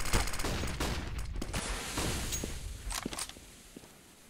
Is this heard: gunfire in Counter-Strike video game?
yes